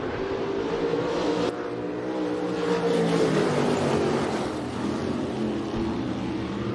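IMCA Race Saver sprint cars roar around a dirt speedway during green flag action, a loud sustained engine drone with rising and falling pitches as several cars pass, no voices heard.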